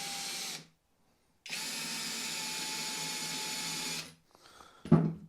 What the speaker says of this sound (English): Use the pinhole like a centre punch mark and drill into them.